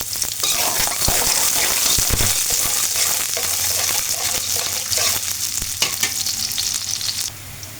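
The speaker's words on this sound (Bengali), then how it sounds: "তেলটি ভালোভাবে গরম হলে পেঁয়াজ রসুন এটি একটু ভাজা করে তারপরে মুরগিটি কষিয়ে নেব" Onion and garlic sizzling in hot oil in a wok for a chicken curry, a loud steady crackling fry with intermittent stirring scrapes throughout, no talking.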